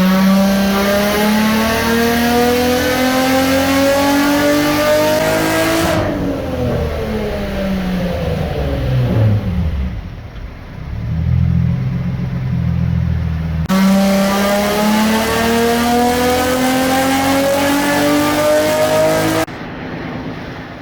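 Infiniti G35 engine on a dyno, revving loudly through a full pull with a steady climbing pitch, easing off and dropping to a lower rumble, then revving up again for a second sweep, with no talking.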